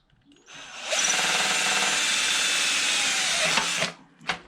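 A power drill whirs steadily for about three seconds, boring a hole in a Toyota Celica part with the correct bit, then stops, followed by a short second burst close by.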